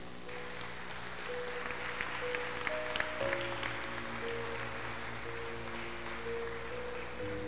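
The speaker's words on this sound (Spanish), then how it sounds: "¿Puede ponerse de pie y darle un aplauso al Señor?" A church congregation at Iglesia Príncipe de Paz in Morristown stands and applauds, a dense, steady patter of many hands over sustained keyboard tones.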